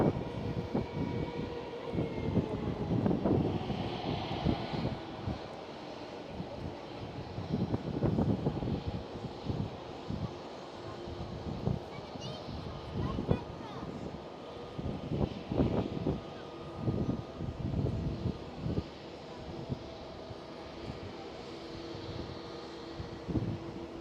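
An airBaltic airliner departs Schiphol airport in Amsterdam, a steady distant roar of jet engines that swells and fades with gusty wind, no talking.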